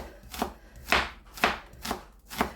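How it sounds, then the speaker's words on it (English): A knife chops through an onion on a cutting board in five crisp, evenly spaced strikes about half a second apart. Each cut is close and clear, with no talking. "chop that up as best as I can, and that'll break down into nice pieces"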